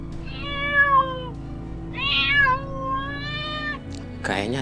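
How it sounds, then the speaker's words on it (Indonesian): A cat meows close by in a few drawn-out, wavering cries with brief gaps between them, over a low background hum. "Kayaknya ada suara kucing ya."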